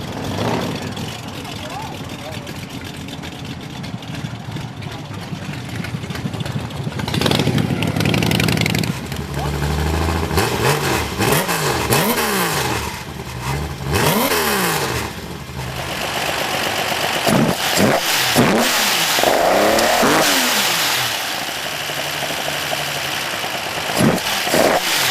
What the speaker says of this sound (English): there's nothing quite like a screaming, angry six-cylinder, and I found one here in this great little LJ two-door Tirana owned by Dominic Zito